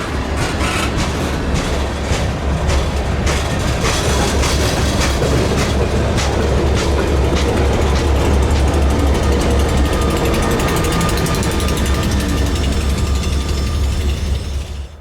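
Wheeling & Lake Erie train 643, with locomotives on both ends, rolls past close by, a steady loud rumble of wheels and rattling cars with rhythmic clanks throughout, then a fade at the end.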